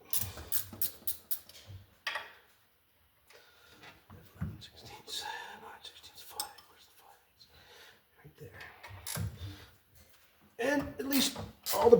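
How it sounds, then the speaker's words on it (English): A 9/16 ratchet wrench backs off power steering bolts on an old 1957 vehicle, its clicking ratcheting heard in short bursts near the start and end, with someone talking in between. "9/16 ratchet wrench"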